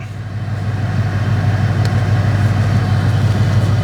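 A Dodge car's engine idles close by in a steady, low rumbling drone that holds an even level throughout, with no voices.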